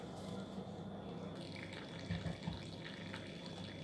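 Blackcurrant and apple cordial is poured from a pan into a muslin bag, giving a faint, continuous liquid trickle with a few soft splashes in a quiet kitchen.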